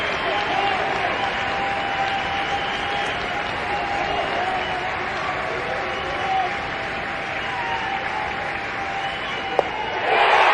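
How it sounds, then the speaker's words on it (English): A college baseball crowd at an Ole Miss versus LSU game keeps up a loud, sustained roar of cheers and clapping to encourage pitcher Zach Hess with two strikes, holding steady throughout before a sharp knock near the end. "This crowd sending out encouragement to Zach Hess"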